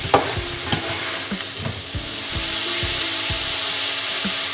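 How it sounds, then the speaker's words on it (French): Mushrooms cook in a pan with a loud, continuous sizzle while a utensil stirs and scrapes in repeated close strokes, and the frying grows slightly louder partway through, with no talking. "je les laisse cuire 2 à 3 minutes tout en les mélangeant."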